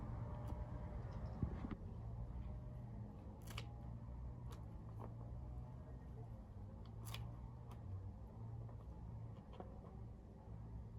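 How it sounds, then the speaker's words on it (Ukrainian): Pruning shears cut lavender flower stalks in a garden, giving several sharp, faint snips spaced irregularly over quiet outdoor background with some soft talking. "Отак пообтинала спершу сікатором."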